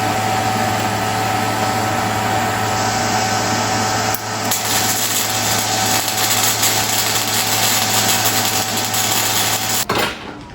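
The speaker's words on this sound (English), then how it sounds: "he's welding to make a tool for us to take the top caps of the fork tubes on this road glide" Welding in a motorcycle workshop to build a tool for removing fork tube top caps on a Road Glide: a loud, steady crackling hiss with a constant hum beneath, running without pause.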